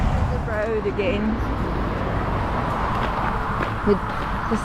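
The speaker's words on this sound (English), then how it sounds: "There's so many lorries as well, such a shame." Steady roadside traffic along the Camino Frances between San Martin del Camino and Astorga, a continuous broad rumble of cars and lorries passing close by, with voices talking faintly over it.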